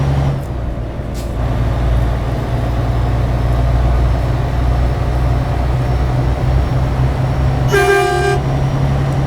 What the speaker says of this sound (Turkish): Böyle bir havalı korna taktım. Normal kornamız bu havalı kornumuz.